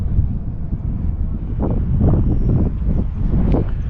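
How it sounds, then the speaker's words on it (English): Strong wind buffeting the microphone on a kayak on the water near Venice, Florida, loud rumbling gusts that swell and fade over the whole span. "That wind is terrible."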